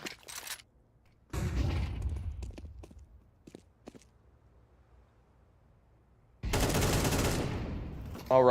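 Bursts of Kalashnikov rifle and pistol fire sound in a competitive esports shooter match, with short sharp clusters of shots separated by quiet stretches, then a longer loud burst near the end.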